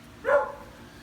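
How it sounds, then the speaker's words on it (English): A single short dog bark, mid-distance and fairly clear, rising and fading within a second, out in a backyard garden of hot pepper plants with no talk over it. "Of course, the dog's gonna bark while I talk, but that's fine."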